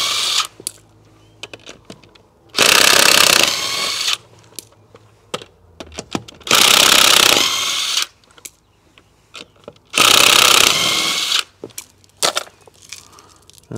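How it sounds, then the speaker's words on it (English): Battery-powered electric impact wrench working the lug nuts on a Can-Am Renegade XXC 1000R ATV wheel, three loud sustained hammering bursts of a couple of seconds each, separated by clanks and handling noises in a garage. "these battery powered impact wrenches are just awesome"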